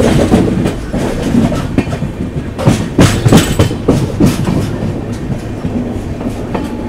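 The Digha to Puri Samudrakanya Express runs along a single-line track, its loud, close rumble carrying rhythmic clickety-clack wheel beats and rattling carriages throughout, with no voices.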